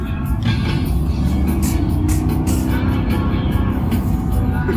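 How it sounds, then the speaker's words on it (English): Chevrolet 522 truck engine idling as a steady, loud low rumble, continuous and close throughout. "That's exactly what Mike's truck sounded like, Dad."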